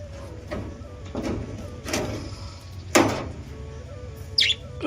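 Pet budgerigars chirp in short, scattered calls, faint to moderate in loudness, over a low indoor hum, with a few sharper tweets near the end.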